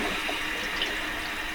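Water rushes steadily through a boat's marine head toilet as it is pumped, a continuous close, even gush with no pauses.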